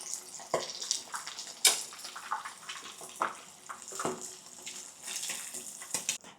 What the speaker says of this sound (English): At first, it will bubble vigorously.